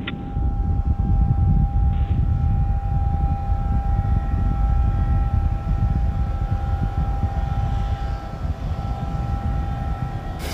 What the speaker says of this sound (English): Falcon 9 has successfully cleared the tower and cleared the fog